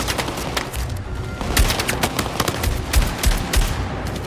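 Gunfire rattles through a Battlefield 6 firefight during a night raid, with rapid automatic bursts and sharp single shots cracking close and loud, a few heavier reports standing out in the steady barrage.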